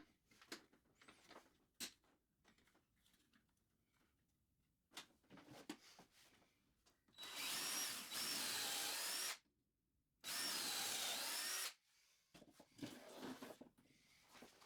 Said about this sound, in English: I pre-drilled them with a pocket hole drill bit.